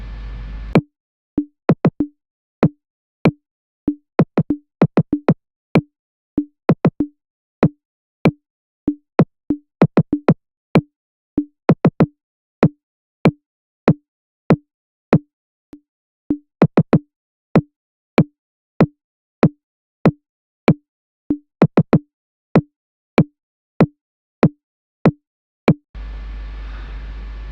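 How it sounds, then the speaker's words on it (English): A single kick drum sample repeated alone in music production, dozens of short punchy thumps in an uneven, pattern-like rhythm over about twenty-five seconds, dry and close, with brief noise at the start and end. "So this is also another type of kick. When I layer up, you can hear this kick separately."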